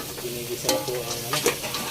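Crab sautéing in a pan makes a steady sizzle, and two brief stirring clatters sound up close.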